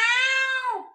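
A cat gives a single clear, drawn-out meow close by that falls in pitch at the end, heard alone against silence.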